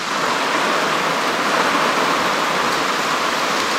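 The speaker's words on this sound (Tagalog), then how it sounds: "Ayan ang ulan mga kasinag." Steady rain pouring down in a dense, even hiss that fills the whole stretch without pause, loud and close, with no voices.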